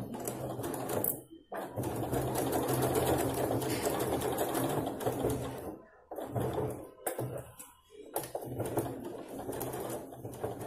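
Sewing machine stitching a baby chaniya choli, running in bursts of rapid close stitching separated by short pauses, with the rhythmic needle chatter fairly loud throughout.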